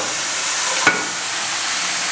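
Continuous hiss of masala frying in a pan, broken by a single soft thud as pressure-cooked duck is dropped in.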